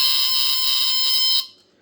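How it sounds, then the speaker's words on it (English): A 1978 Norelco Smoky HB0933A vintage smoke alarm sounds during a test, a piercing high-pitched continuous squeal that holds steadily and then cuts off sharply, with no voices. "super high-pitched delta alarm squealer"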